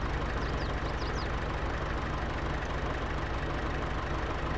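Small compact John Deere 710 tractor engine idling in Farming Simulator 22, a steady low mechanical drone that holds even and unbroken throughout, with a few faint high chirps near the start.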